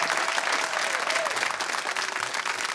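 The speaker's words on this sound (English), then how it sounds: "I think he deserves a round of applause" Studio audience applause at a high school quiz show competition, a steady, even crowd clapping throughout with faint voices beneath.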